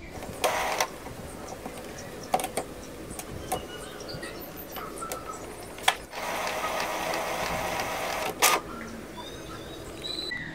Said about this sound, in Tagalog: mukhang nagnormal yung galaw ng print head